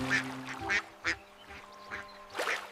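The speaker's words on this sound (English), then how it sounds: "Mama duck said quack, quack, quack." Cartoonish duck quacks from a children's nursery rhyme song about five colorful ducks, several short nasal quacks spaced irregularly over a soft musical background, fairly close and clear.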